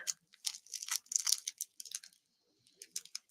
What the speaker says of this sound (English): So let me get it out of the plastic bag.